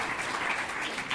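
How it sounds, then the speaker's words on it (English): An audience applauds speaker Matt Cohen after his talk, a brief dense wash of steady clapping from a crowd, even and sustained with no break. "Another round of applause for Matt Cohen."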